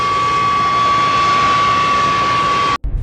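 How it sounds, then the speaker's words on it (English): A Stuka dive bomber's Jericho trumpet siren wails as a loud, steady high tone over the roar of the diving aircraft's engine, then cuts off abruptly near the end. "The Stuka Jericho Trumpet Siren."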